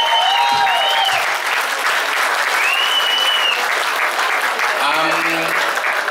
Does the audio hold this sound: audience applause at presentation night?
yes